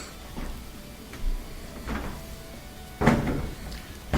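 Kenmore dryer control panel pushed back into position and pressed down to lock: a few soft plastic-and-metal knocks and clicks, ending with a sharper clunk as it seats.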